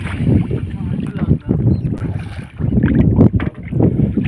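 Rowing a boat on a fish pond outdoors, loud irregular splashes and sloshing of water with strokes roughly every second, mixed with gusty wind rumble on the microphone.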